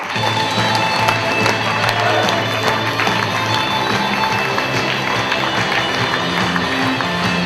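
An audience applauds a poet after the scoring at a poetry slam competition, with loud, dense, continuous clapping close by and a few voices faintly mixed into the crowd noise.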